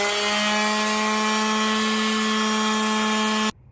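Sheet sander switched on before touching the wood surface, a loud steady whine with a strong tonal hum that runs unbroken and then cuts off abruptly near the end.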